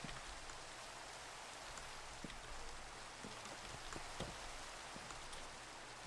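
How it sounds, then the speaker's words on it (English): Steady video game rain hissing evenly over a wide spread, with scattered faint drip and splash ticks and no talk. "Finally, I can get rid of this damn rain."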